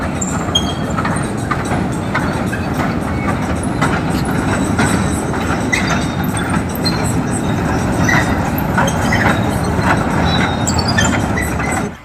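A family amusement ride train at an island park in Monpura rumbles steadily with continuous rolling wheel noise and faint rail clatter, loud and close throughout with no talk.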